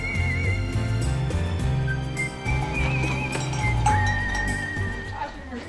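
Horses on an Everest Base Camp trek route, one carrying a loudspeaker, pass close by with hooves clopping and a whinny, while music with whistle-like melodic lines plays from the speaker.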